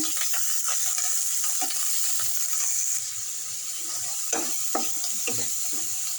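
Ginger and garlic frying in oil until browned, for a Bengali beef liver bhuna, giving a continuous close sizzle broken by scattered clicks and scrapes of stirring.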